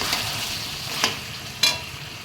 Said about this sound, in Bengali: পিউরি চিকেনটা কষানো হচ্ছে